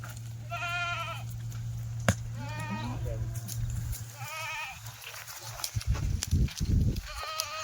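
Kathiawadi goats bleat repeatedly at a livestock market, several wavering calls close by over a steady low hum, with someone talking in Marathi and rustling handling noises between the cries.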